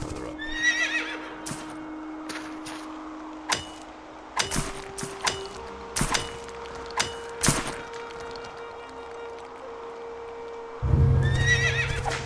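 Horse in the video game Quinfall whinnies at the start and again at the end, with scattered hoof clip-clops and sharp mechanical clicks between, over a steady low game drone; no voices.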